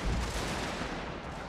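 Artillery units firing on an area in a strategy game about Prussia, a dense rumbling barrage of overlapping blasts, brief and loud.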